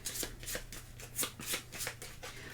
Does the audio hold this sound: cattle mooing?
no